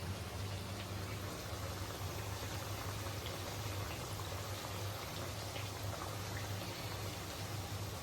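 A dense, steady crackling hiss of plantain chips frying in hot oil continues throughout, fairly close, with no voices.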